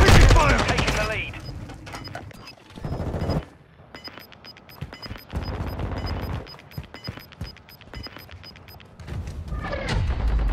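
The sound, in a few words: gunfire in Modern Warfare II video game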